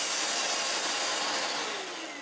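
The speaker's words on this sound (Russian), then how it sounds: "то пылесос включается также в работу" A loud, steady broadband roar of a Festool workshop vacuum running continuously, with a slight drop in pitch near the end, and no voices.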